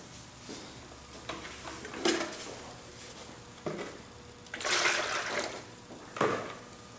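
Yellow glaze being poured into and out of a textured ceramic sake bottle, with several close, sloshing liquid bursts and splashy pours separated by quiet pauses.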